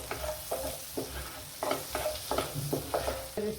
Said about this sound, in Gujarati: બટર ઓગળી ગયું છે આપણે હવે તેમાં એડ કરીશું થોડું જીરું